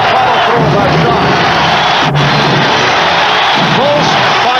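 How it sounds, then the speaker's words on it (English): Loud, dense basketball arena crowd roaring continuously throughout at the 1992 NBA Finals Game 5 in Portland, fans urging the Trail Blazers on, with scattered shouts, whistles and bellows rising from the steady wall of noise. "the crowd urging the Blazers on"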